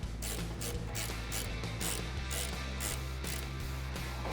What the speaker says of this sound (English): Grab a 14mm socket, or we're using a ratcheting wrench here,